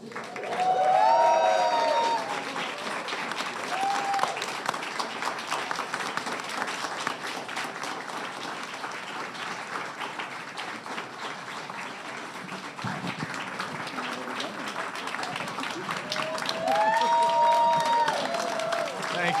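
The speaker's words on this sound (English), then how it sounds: "How about a round of applause?" Audience applause at an Imagineer presentation about Disney's Hollywood Studios, a steady crowd clapping sustained throughout with scattered cheers and voices in the room.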